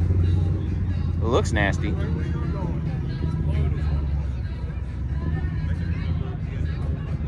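A classic Dodge Charger with a fully rebuilt engine idles nearby, a deep, steady low rumble running under people talking at close range throughout.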